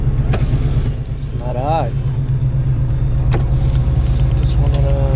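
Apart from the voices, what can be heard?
car driving with windows up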